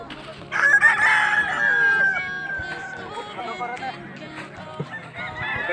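Roosters crow at a cockfight, one loud crow near the start followed by weaker crows and clucks, under a crowd of people talking and shouting.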